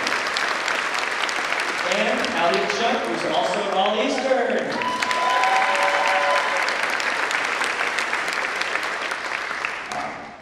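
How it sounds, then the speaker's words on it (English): Full-room applause for student musicians at a board of education awards event, continuous and fairly loud, with a voice speaking over it and a few tonal sounds rising briefly in the middle. "a huge round of applause for all of the students and incredible musicians"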